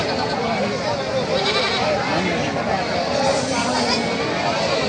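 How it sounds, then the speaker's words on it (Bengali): Goats at a busy livestock market bleat in scattered calls over a dense, constant babble of crowd noise and nearby voices. "দর্শক দেখেন কত সুন্দর সুন্দর ছাগল আপনাদের দেখালাম।"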